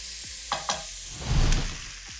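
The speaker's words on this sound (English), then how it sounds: "we're going to cook this till the prawns turn pink" Prawns with fish, pepper and onion powder cook in a pan, giving a steady close sizzle with a few sharp clinks of a utensil against the pan and a swell of stirring.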